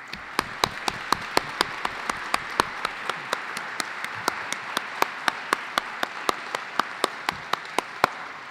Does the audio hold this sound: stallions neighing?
no